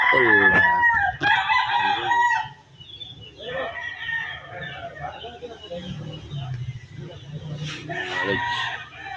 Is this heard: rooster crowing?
yes